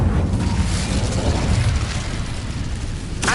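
The Incendio fire spell cast in Hogwarts Legacy, a loud whooshing, crackling burst that fades out over a few seconds, with a fresh crack at the end.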